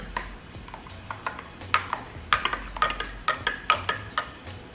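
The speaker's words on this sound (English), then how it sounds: "Now I'm gonna grab a spoon. I'm gonna mix it up." A spoon stirring a drink in a cup, rapid light metallic clinks and taps against the sides in an uneven rhythm, close up with no talking.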